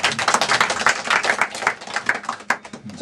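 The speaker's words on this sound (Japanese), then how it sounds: "どうぞ拍手を差し上げてください。" A small audience at a card magic show claps in a loose, uneven patter of separate hand claps, close and moderately loud, for a few seconds.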